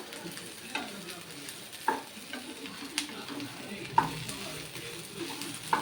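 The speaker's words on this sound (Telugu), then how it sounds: "మళ్ళీ చూడండి ఇట్లా వేపుకుందాము. ఇట్లా వేపుతూనే ఉండాలండి." Sliced okra sizzles steadily in a hot pan while a spatula stirs it, giving repeated scraping clinks every second or so over a constant frying hiss; close and clear, with no talk.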